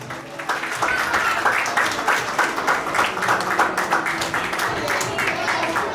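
Applause for a graduating student at a cap-crossing ceremony, a crowd clapping steadily and fairly close with dense, rhythmic hand claps and faint voices mixed in.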